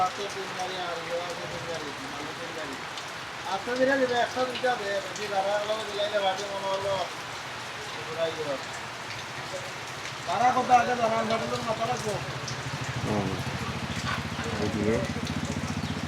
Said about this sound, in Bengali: বৃষ্টি হচ্ছে, প্রচুর পরিমাণে বৃষ্টি হইতেছে।